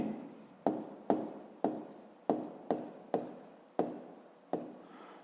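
Pen or chalk writing out a physics problem solution, heard as a series of about ten sharp strokes in an uneven rhythm, each tapering off, close and fairly quiet with no talk.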